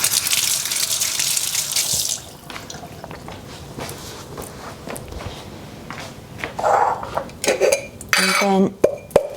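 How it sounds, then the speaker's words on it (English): Oily hands rinsed under a running kitchen tap, a steady broadband rush of water with clinks of dishes and cutlery at the sink, growing busier toward the end. "we'll wash my hands a moment because it's oily"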